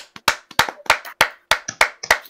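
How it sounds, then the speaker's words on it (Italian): One person claps alone at home during an F1 esports livestream, about nine crisp, close hand claps in a loose, uneven rhythm with brief gaps between them. "facciamo un applauso a Farris eh"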